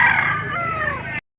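A rooster at a poultry auction market in Lipa lets out a single loud, close crow lasting about a second before cutting off abruptly.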